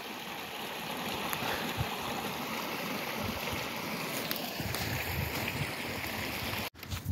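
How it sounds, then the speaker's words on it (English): A small waterfall in a stream the day after a great flood, steady rushing and churning water near at hand, continuous and fairly loud, briefly cut out just before the end, with no speech. "So there's like my mini waterfall over here."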